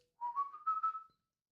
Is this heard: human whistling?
yes